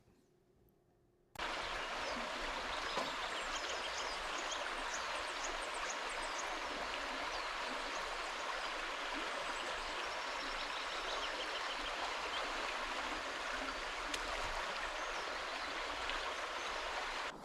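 A river rushes steadily beside a motorcycle campsite, a dense, unbroken roar that cuts in loudly after a brief quiet start and holds at an even level.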